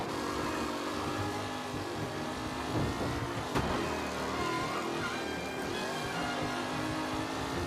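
Race cars in the video game Mafia Definitive Edition drone past with layered engine hum and revving, a steady mechanical roar holding at moderate level without speech.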